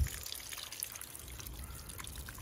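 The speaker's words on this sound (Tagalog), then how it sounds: "umapaw ang tubig." Water overflowing and spilling from a container after being forgotten, a steady soft trickling and pouring at low level, continuous throughout with no talk.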